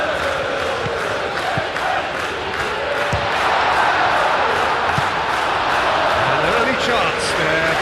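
A stadium crowd in eFootball PES 21, at an England vs Japan international friendly, keeps up a continuous roar with rising cheers, under occasional ball thumps and commentary.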